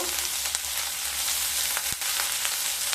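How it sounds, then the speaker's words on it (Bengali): Onion and garlic cloves frying in a pan, browning gently for a moringa leaf mash; a steady, close broadband sizzle runs throughout, with a faint stir or clink near the end. "পেঁয়াজ আর রসুনকে হালকা ব্রাউন কালার করে ভেজে নেব।"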